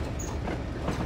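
A Class 56 freight train running in Train Simulator 2015, a loud close rumble of wheels and engine with a steady rolling clatter and a faint high squeal, continuous throughout.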